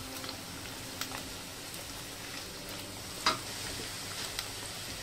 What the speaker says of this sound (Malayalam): ഈ എണ്ണയിലോട്ട് മുഴുവൻ ഇഞ്ചിയിടും